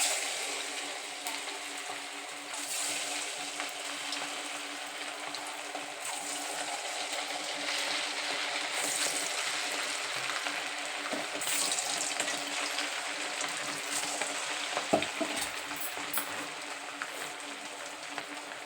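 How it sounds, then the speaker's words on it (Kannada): Rava vada dropped one by one into very hot oil, giving a steady, loud hiss and crackle of deep frying that runs throughout with small pops. "ಎಣ್ಣೆಗೆ ಹಾಕಿ ಕರಿತೀನಿ ರೀ ಇವನು"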